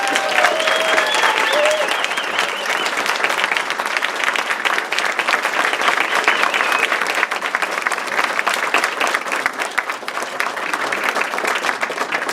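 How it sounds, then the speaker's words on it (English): Sustained applause from the audience at a township committee reorganization meeting, dense steady clapping filling the room after an oath of office, with some voices mixed in. "a special round of applause for John's daughter"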